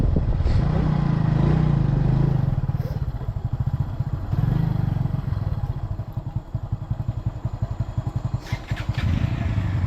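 A motorcycle engine rumbles steadily while riding in Konkan during Ganpati arrival celebrations, its throttle rising and falling, with rattles and wind noise close by.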